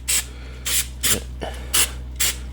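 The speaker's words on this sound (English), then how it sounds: "we're going to put the majority of our spray on the front" Short bursts of aerosol spray onto the wings of a 1:350 scale Klingon Bird of Prey model, five or six in a row with brief pauses between, hissing close by over a steady low hum.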